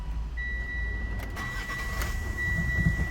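A Mitsubishi Outlander 2.2 diesel engine cranks briefly and catches, then settles into a low, steady idle.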